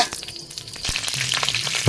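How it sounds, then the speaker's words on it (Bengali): Dried red chillies and bay leaf frying in hot oil in a wok, a steady close sizzle with faint stirring scrapes and no talking. "তেলের মধ্যে একটু শুকনো লঙ্কা দেবো তেজপাতা"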